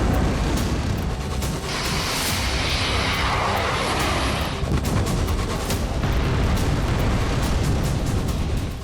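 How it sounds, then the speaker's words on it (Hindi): Heavy explosions from several drones striking at once during a night attack, a dense, loud roar of blasts and rumbling that fills the whole stretch, with a brighter burst partway through and no voices. "कई ड्रोन एक साथ गिरे और बड़ा धमाका हुआ"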